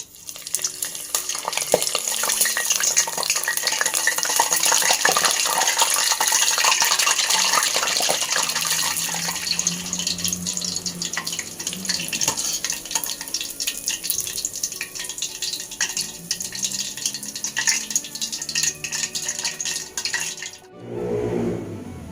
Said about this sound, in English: Put the prawns on top and you can start frying again.